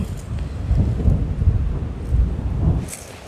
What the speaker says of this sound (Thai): เสียงฟ้าร้องแล้วนะคะ ทุกคน